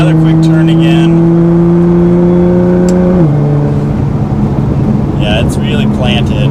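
A Nissan GT-R accelerates hard on country roads, the engine note rising in a loud steady drone heard from inside the cabin, then dropping sharply at a gear change before climbing again, with a voice talking briefly.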